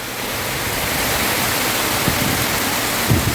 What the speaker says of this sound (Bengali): দেখুন কি পরিমাণে বৃষ্টি হচ্ছে আর সেই সাথে ঝড় মতো হচ্ছে ঝড় আর বৃষ্টি একসাথে